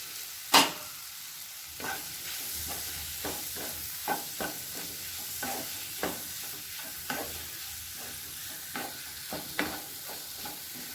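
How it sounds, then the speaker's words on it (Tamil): Fried eggs being stirred into a frying onion and tomato masala, with a spoon scraping and clacking in repeated strokes about once a second over a steady low sizzle, close and without talk. "முட்டையை இது கூட சேர்த்துடலாம்"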